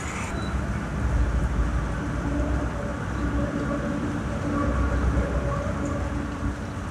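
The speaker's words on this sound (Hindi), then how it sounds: "ये जो आपको मेट्रो दिख रहा है ये गॉल्फ कोर्स रोड का मेट्रो है" A Golf Course Road metro train in Gurgaon rumbles past outside a residential society, a loud continuous roar that swells and fades over several seconds with no speech on top.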